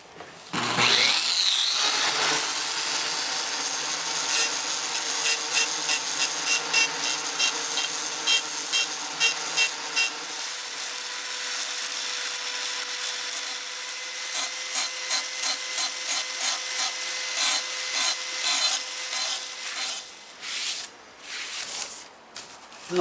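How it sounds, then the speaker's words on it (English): A power engraver cuts feather detail, running as a continuous buzzing whine with a rapid rasping texture for most of the stretch, loud and close, then breaking into choppy bursts near the end. "I'm going to use my engraver, come up to where I got a grinder mark right there."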